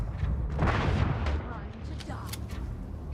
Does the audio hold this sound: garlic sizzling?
no